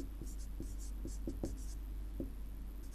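Writing on a board during an electrical engineering lecture: a series of short, scratchy strokes tapping out at an irregular rhythm over a steady low room hum.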